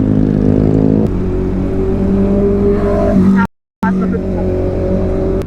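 Honda CB650R inline-four motorcycle engine revving loudly and steadily with harmonic whine, rising in pitch, briefly cut off then resuming, with a rider's voice talking over it through an intercom.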